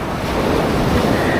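Strong wind roars continuously against the microphone, a dense rushing buffet with the wash of surf mixed underneath.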